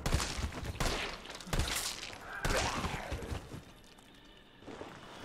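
Gunfire from Resident Evil 3 Remake on a rooftop, several sharp broadband shots at irregular intervals in the first three seconds, loud and close, fading into a quieter tail.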